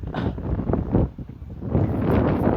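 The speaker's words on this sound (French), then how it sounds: "y a du vent, regardez les cheveux là" Wind buffets a microphone outdoors, a steady low rumble that swells and dips for the whole stretch with no voice over it.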